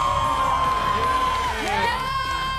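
A crowd at a televised team game show cheers, whoops and screams in loud, sustained overlapping shouts, with high shrieks rising and falling throughout.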